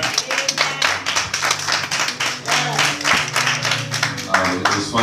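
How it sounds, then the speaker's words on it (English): A church congregation at a Sunday morning service claps in a loose, sustained round of applause. Many hands clap close and loud, with some voices mixed in beneath. "Can we give God a hand clap, please?"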